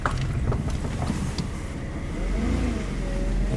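Cars drive along a road at night, engines rumbling close by as one vehicle seems to accelerate or pass, a continuous motor drone with a rising swell near the end.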